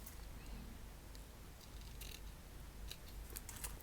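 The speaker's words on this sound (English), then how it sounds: "So I'm just going to roughly measure it and cut a piece off" Scissors snip through a piece of ruffle trim during a craft project, a few faint, crisp cuts spread over a quiet, hushed room background.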